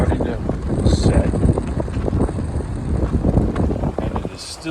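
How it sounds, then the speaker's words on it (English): Strong wind buffets the microphone in gusty bursts over the drone of a boat on open water near Bimini Basin at sunset. "it is still super windy out"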